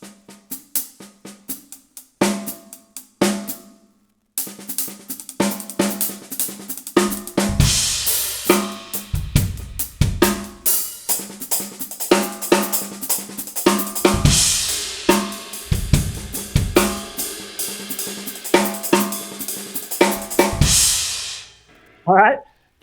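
A drum kit plays a fill pattern where the right hand moves to the hi-hat and the hi-hat foot replaces the kick, giving rapid repeated hits with crisp cymbal wash that start sparse, build into dense continuous playing, then stop.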